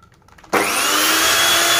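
A repaired Miyako blender motor suddenly switching on, a loud steady whirring roar that starts abruptly after a moment of quiet and holds without a break.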